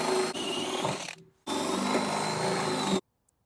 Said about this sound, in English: I think I'm going to put it down for a moment and drill a few more